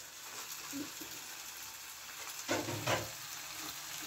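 A duck egg mixture with chopped green chillies sizzles quietly in a pan, with a brief burst of stirring scrapes partway through against a steady soft frying hiss.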